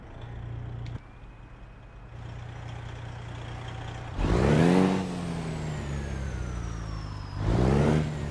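Western Star 5700XE truck engine with a modded engine sound in American Truck Simulator: a steady low diesel idle, then two loud revving surges that climb and fall in pitch, with a brief click between.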